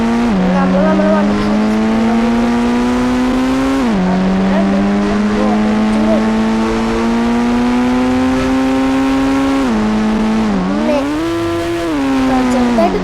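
A BMW M3 in the mobile game Indian Bikes Driving 3D, its engine droning loud and continuous, pitch climbing and dropping sharply at gear shifts as it accelerates.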